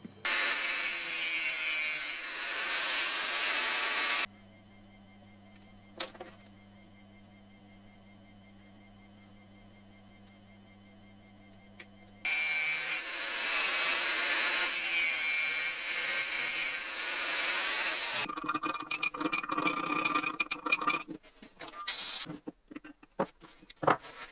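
A 4 mm steel drill bit is cut down to keep its smooth rear shank for repairing a Peugeot 407 wheel-lock socket. Harsh, loud grinding-sawing bursts come up close, broken by a long quieter stretch of steady humming tone.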